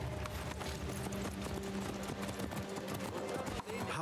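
Horses' hooves clip-clop steadily in the Assassin's Creed Mirage video game, set in Baghdad, under a dense layer of music and ambient game sound.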